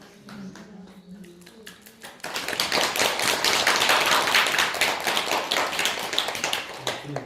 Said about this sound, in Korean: 다시 한번 고마운 뜨거운 박수.